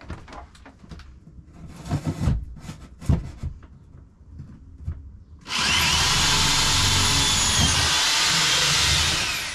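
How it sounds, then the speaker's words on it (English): Power drill boring holes up through an RV travel trailer roof: a few short knocks and handling bumps, then a loud, steady drilling whine that runs continuously to the end. "Let's drill some holes up through"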